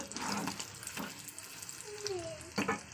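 An egg fries in a home kitchen pan with a soft, continuous crackling sizzle and light scraping, heard close but fairly quiet, with a few brief clatters and no talking.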